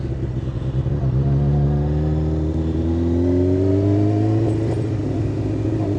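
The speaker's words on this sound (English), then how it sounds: "Car coming up, let's slow down a bit." A car approaches on a road near the Kettering motorcycle test route while a motorcycle engine hums steadily close by, its engine note rising gradually as it builds.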